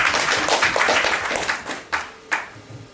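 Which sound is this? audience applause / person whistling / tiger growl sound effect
audience applause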